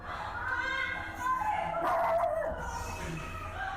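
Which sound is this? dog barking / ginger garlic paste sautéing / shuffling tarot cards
dog barking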